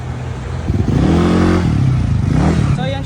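Second-hand motorcycle on a test ride, its engine revving up and down with rising and falling pitch, loud and close, with some mechanical clatter and wind noise.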